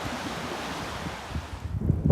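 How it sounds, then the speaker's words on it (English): Strong wind at Excelsior Geyser in Yellowstone, a loud steady rushing roar buffeting the microphone, easing slightly near the end, with no voices. "It's very windy up here"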